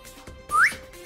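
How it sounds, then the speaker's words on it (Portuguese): A single sharp whistle blast rings out in a town square, rising briefly and loudly before cutting off, with faint background noise before and after. "escutou esse apito aí"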